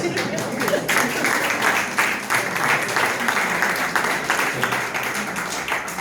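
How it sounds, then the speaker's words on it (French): Applause rises at a church children's presentation, a little girl clapping among the crowd, a steady, moderately loud patter of hands that fades slightly toward the end. "Et la petite qui applaudit."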